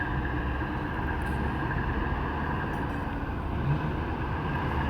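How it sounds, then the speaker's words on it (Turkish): A steady low rumble of a departing freight train hauled by a DE 24000 diesel locomotive, a continuous mechanical drone with faint metallic squeals, heard from nearby at Selçuk station in Turkey without talk. "Şu an burada yük treni kalkıyor arkadaşlar."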